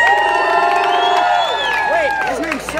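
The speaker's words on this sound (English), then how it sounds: "So please give him a round of applause." A crowd cheering, whooping and clapping for a performer at a Pride drag show, loud and dense, with many high voices shouting together.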